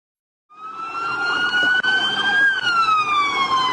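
A police siren starts after a brief silence and wails loudly and steadily during a truck pursuit, its tone slowly gliding, close by.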